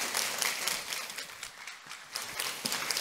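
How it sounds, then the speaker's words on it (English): Audience applause at a cybersecurity conference session, a steady wash of clapping from a hall crowd lasting the whole stretch, fairly faint and even with slight swells. "Please, a nice applause."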